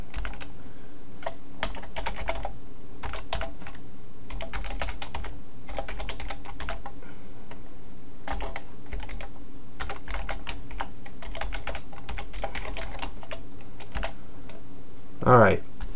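Bursts of clicky keystrokes on a computer keyboard come close and clear, in irregular clusters with short pauses. A brief higher sound occurs near the end.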